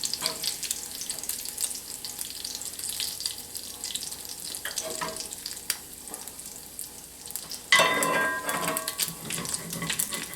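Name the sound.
sausage frying in lard, popping and cracking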